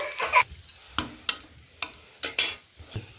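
Cardamom pods and bay leaves hit hot ghee, 100 grams of it for fried rice, giving short crackling sizzles and clicks in a series of separate bursts, close and clear, with no talking.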